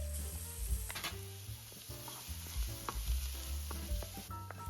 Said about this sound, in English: Now add some more oil into the same wok. Then add the garlic.